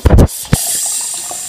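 Water poured into a bath toy, a short gurgling splash at the start, then a steady hiss of running water.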